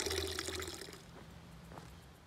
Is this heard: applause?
no